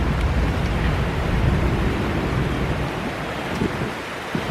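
Strong outdoor wind buffets and roars steadily across the whole stretch, a broad constant rushing noise with gusty low rumble, no voices heard.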